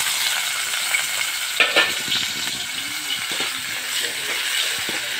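Chopped tomato and onion drop into hot oil and fry with a steady, close sizzle, joined by light stirring scrapes and clinks.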